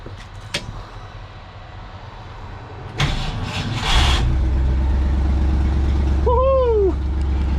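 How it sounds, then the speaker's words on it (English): A 1968 car called Ole Puddin, with a freshly repaired exhaust, cranks briefly and fires up, then settles into a loud steady idle close by, after a few clicks and clunks near the start. "turn the key. Give it a little bit of gas."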